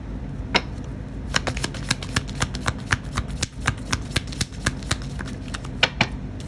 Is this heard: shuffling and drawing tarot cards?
yes